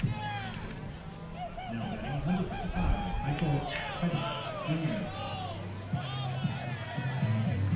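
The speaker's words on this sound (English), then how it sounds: "The cheering you hear is down to our left in the third base side dugout" Players in neon green jerseys shout and cheer from the third base dugout at a collegiate summer league baseball game, a lively, somewhat distant mix of whoops, hollers and crowd chatter.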